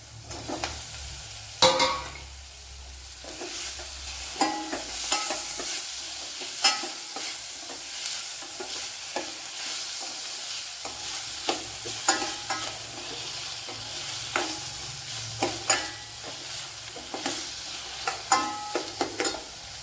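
Okra and tomato sautéing with salt in a pan for a ladies finger curry, a continuous close sizzle punctuated by frequent scraping stirs at an irregular rhythm, no talking.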